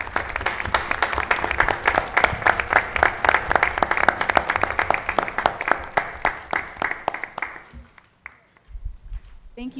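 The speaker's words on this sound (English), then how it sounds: "Can we get another round of applause for our beautiful artists' work?" An audience at a school board meeting applauds student artists' work with brisk, rhythmic clapping and scattered voices in the room, fairly loud for eight seconds before it drops off and quiet talk follows.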